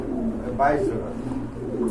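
A pigeon at a pigeon sale coos softly and briefly beneath someone talking nearby.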